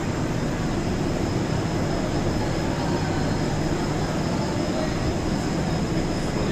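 Train 07221 pulls out of Bhubaneswar station, a steady low rumble and broad hum of carriages beginning to roll, constant and close throughout with no break.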